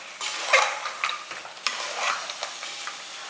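Masala for a mutton head curry sautés in a pan, a close stirring scrape repeating every half second or so over a soft sizzle, with no voices.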